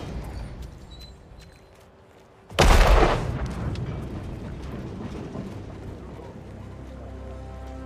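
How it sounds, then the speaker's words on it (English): A single sharp gunshot in the stealth video game Hitman 2 cracks loudly after a quiet mechanical hum, followed by a crumbling, rumbling clatter of debris that slowly fades. "And we'll manually drop it by running out here and shooting it."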